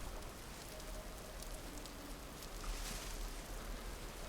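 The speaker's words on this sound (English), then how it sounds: "it's getting rainy and foggy up here" Dense, even rain hiss in the video game Vintage Story, rainy and foggy weather up in the mountains, a continuous wash of falling drops with no voices.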